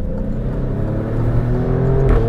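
Alfa Romeo Stelvio Quadrifoglio with its Ferrari-derived V6 engine and tuned exhaust, heard as a steady, deep engine drone under load that swells slightly louder toward the end, close and continuous with no talking.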